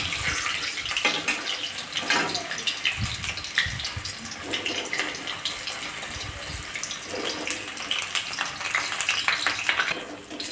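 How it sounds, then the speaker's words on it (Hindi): Litti frying in hot oil with cumin in a kadhai, a steady close sizzle and crackle that runs unbroken, with occasional stirring scrapes and no talk. "अब इसको ना उलटते पलटते इसको थोड़ा सा फ्राई कर लेंगे, थोड़ा इधर थोड़ा उधर।"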